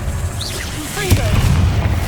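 A fire-blast spell explodes with a low booming burst amid the continuous rumble and spell effects of the Hogwarts Legacy video game, one sharp hit standing out at the centre.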